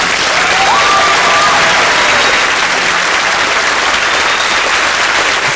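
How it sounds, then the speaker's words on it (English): A large crowd at a 2003 anti-Iraq war rally in London rises in a standing ovation, loud sustained applause and cheering filling the space continuously without a break. "A standing ovation by a crowd with renewed hope and inspiration."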